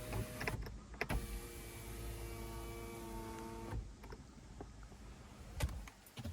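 Motor of a car's panoramic sunroof runs with a steady whirring hum for about three seconds, bracketed by clicks and a soft thump, close by in a quiet cabin.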